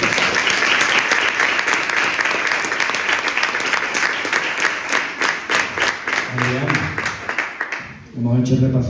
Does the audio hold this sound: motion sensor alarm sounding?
no